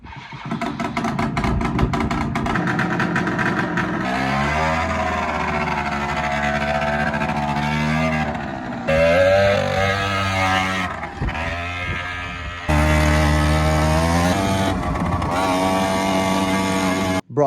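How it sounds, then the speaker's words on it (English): Carbureted engine fired up after sitting two weeks, running at a loud rough idle with revs rising and falling in uneven surges, cutting out briefly a few times. "we're gonna fire her up, let it idle,"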